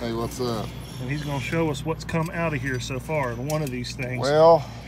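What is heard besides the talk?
No everyday noises stand out.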